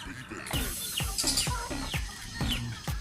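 Repeated sharp descending bird calls ring out close by in a steady series, with faint background noise between them.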